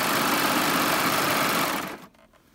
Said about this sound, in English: so I'm going to serge over that seam.